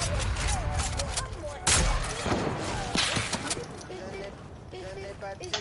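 Sniper rifle shots in a video game, two sharp, loud cracks a little over a second apart, heard under ongoing conversation.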